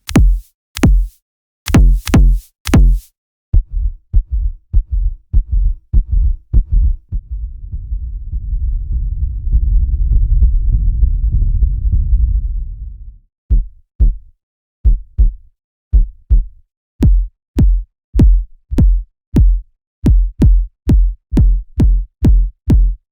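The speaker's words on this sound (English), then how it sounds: "some of these patches sound great just as a standalone kick drums" Deep, booming kick drum hits repeat in steady patterns, with a sustained low sub-bass rumble swelling in the middle before the punchy hits resume.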